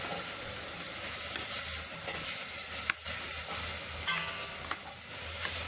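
A spoon stirs 200 grams of brown sugar into a gooey mixture, giving a steady, close scraping and churning texture throughout with a few sharper clicks.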